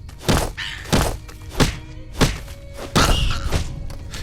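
Melee punches land on a mole rat in Fallout New Vegas, a series of six heavy thuds spaced roughly half a second apart, close and dull, with no talk.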